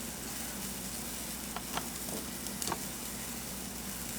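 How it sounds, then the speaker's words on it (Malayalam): Powdered jaggery hits a hot pan of Kerala-style puli inji (ginger-tamarind curry), giving a steady, even sizzle with a few soft clicks and pops scattered through it. "ശർക്കര ഇട്ട് കൊടുക്കുക."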